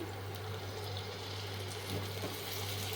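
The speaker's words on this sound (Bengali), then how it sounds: "সামান্য একটু জল দিয়ে দিচ্ছি" Small splash of water poured into a pan of frying ginger, garlic, onion and green chilli, a continuous hissing wash of sound over a steady low hum.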